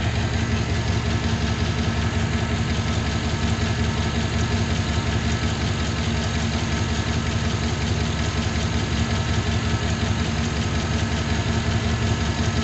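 A junkyard 6.0 LS V8 car engine idles roughly and unevenly at its first start after installation, a steady close mechanical rumble with a ragged knocking texture that continues without pause.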